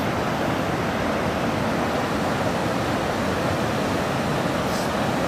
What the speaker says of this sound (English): Yellowstone River headed to the lower falls.